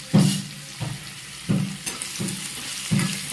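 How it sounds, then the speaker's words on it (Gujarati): Mango pieces fry in oil with cumin and asafoetida, a soft sizzle broken by about five regular stirring scrapes and clatters in the pan, heard up close with no talk. "સરસ શેકી લઈએ અને ધીમા તાપે એને થોડીક વાર એને ચરવા દઈએ"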